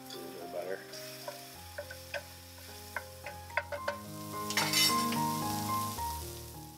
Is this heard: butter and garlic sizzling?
yes